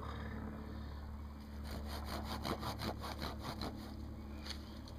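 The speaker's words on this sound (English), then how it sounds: "The saw, let's give it a test." The saw blade of a SOGfari machete cuts through wood in a run of rhythmic back-and-forth rasping strokes, close and moderately loud over a low background hum.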